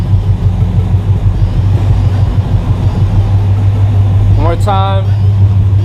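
A car engine on a dyno running an E85 tune, with a steady loud low rumble throughout and a voice speaking briefly near the end.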